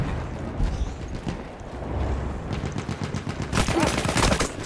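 Sustained gunfire in the Battlefield 1 video game, a dense rattle of overlapping shots and bursts that swells loud toward the end, with no voices present.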